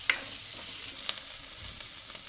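Spices fry in a pan with a faint, steady sizzle, broken by a couple of sharp stirring clicks against the metal; no voices.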